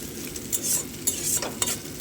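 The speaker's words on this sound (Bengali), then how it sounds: "ডিমটাও এদিকে ভাজা হচ্ছে" Eggs frying in oil in a kadai, with a steady sizzle and light scraping and stirring sounds from a utensil against the pan throughout, fairly close.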